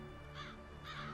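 Two harsh caws from a crow, spaced about half a second apart, sound at moderate distance over a steady background hum.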